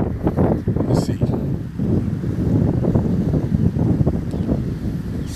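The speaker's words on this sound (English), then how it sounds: "It's a very breezy day, so you might hear more of the wind than you do me." Strong wind buffets the microphone on a breezy, cloudy day beside rough open water, a loud continuous roar with gusty pulses throughout.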